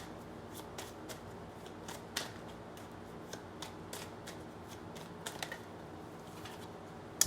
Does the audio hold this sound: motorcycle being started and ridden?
no